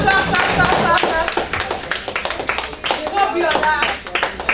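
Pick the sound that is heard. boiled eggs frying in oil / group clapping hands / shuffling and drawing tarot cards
group clapping hands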